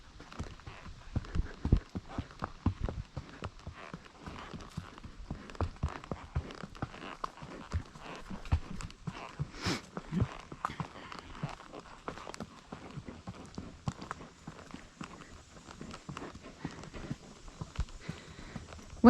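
A horse walks on soft footing, its hooves giving a steady run of muffled, fairly close clip-clop steps with no talk over them.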